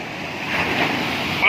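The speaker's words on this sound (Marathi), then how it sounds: "अरे बापरे लाटा काय काय" Sea waves roll in at Daman beach in Gujarat during the monsoon, a steady wash of surf mixed with wind buffeting the microphone, swelling briefly louder near the end.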